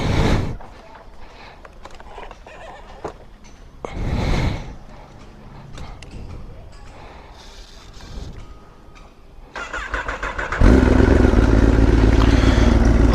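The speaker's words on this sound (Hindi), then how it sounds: "चलो बाइक स्टार्ट मारते हैं" A motorcycle fires up after scattered clatter and handling sounds, then settles into a loud, steady idle warming up, recorded close by.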